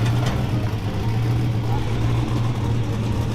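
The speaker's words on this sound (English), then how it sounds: "It's idling 830 to 850 RPM. It's idling real good." A 1957 Chevy engine idles close by at a smooth, steady low hum with a constant rumble and no change in pace.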